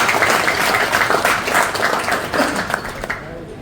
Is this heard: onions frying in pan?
no